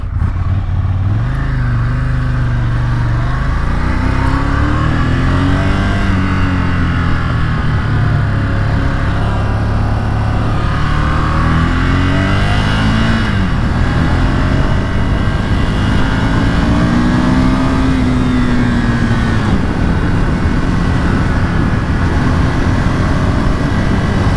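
A 2020 Ducati Monster 797+ motorcycle engine revs and accelerates hard, its pitch climbing and falling through several gear pulls, loud and close under steady wind rush with no talking.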